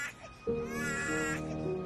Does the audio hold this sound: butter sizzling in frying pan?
no